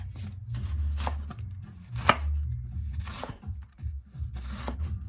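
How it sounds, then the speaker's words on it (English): Steady knife chopping of white onions on a cutting board, repeated dull thuds and crunches at an irregular pace, close up with a low hum behind. "More beautiful onion chopping happening here"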